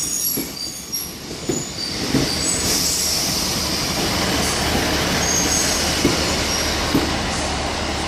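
Three coupled Class 153 diesel trains at Exeter St David's station, wheels squealing and rumbling steadily at close range with a few clanks, loud throughout and no talking.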